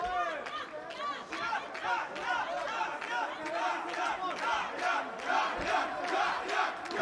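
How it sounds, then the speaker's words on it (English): A packed arena crowd roars and shouts through an MMA bout at UAE Warriors 29, a steady, dense wall of cheering and yelling with bursts of louder cries, heard without commentary over it. "You're hearing the crowd."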